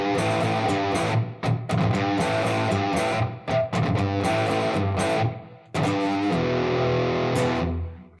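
Loud, close distorted electric guitar riff built on easy rock power chords, with muted percussive chicka strums between the chords and short breaks in the rhythm.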